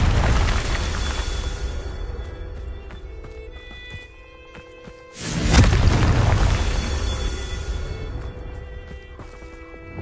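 A Confringo fire spell from Hogwarts Legacy bursts loud and broadband, a single blast that rumbles and then trails off. Game ambience and scattered effects run underneath, with no talk.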